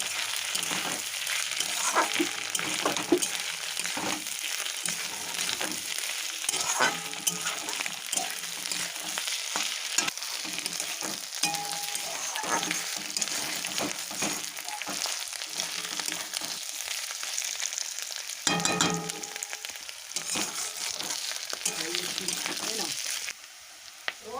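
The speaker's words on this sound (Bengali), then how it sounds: "প্রথমে দিলাম রসুন বাটা তারপরে দিয়ে দিচ্ছি আদা বাটা দিয়েই ভালো করে কষিয়ে নেব বেশ কিছুক্ষণ" Garlic and ginger paste frying in a pan for a river fish curry, a continuous crackling sizzle with occasional scraping stirs, under a voice talking through much of it.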